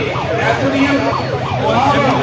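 An ambulance siren wails at a jammed road junction in Nawanshahr, its loud rising-and-falling tone cycling several times, close by, with traffic noise underneath.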